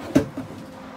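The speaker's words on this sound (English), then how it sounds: "We have a couple drawers here, nice deep drawers." A deep kitchen drawer in a 2020 Forest River Grey Wolf 26MBRR toy hauler makes one short, sharp thud as it opens or shuts, followed by a faint second knock and a quiet room.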